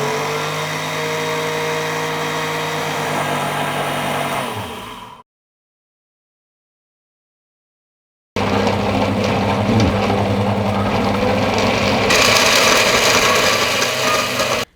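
An electric grinder runs, crushing gum, poppy seeds and other laddu ingredients in a loud steady whir, stopping for a few seconds of silence, then starting again and climbing in pitch.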